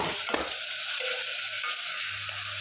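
Sliced onions sprinkled with salt frying in oil for a chicken curry, producing a continuous close sizzle with a brief clatter of stirring near the start and faint low tones underneath.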